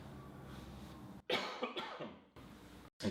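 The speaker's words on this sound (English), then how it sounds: "I'm coughing every now and then." A man coughs in a few harsh, close bursts, a cluster of rough coughs followed by another short one after a brief silence, against quiet indoor room noise.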